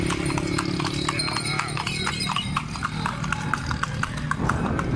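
Horse hooves clip-clop in a steady, even rhythm during a ride at Rosso, Senegal, loud and close with ongoing background noise and a faint whinny.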